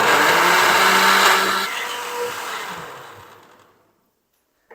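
A kitchen blender grinds green chilies, ginger, garlic and a little water into a fine paste. The motor whirs loudly and steadily, then winds down and fades over a few seconds into silence.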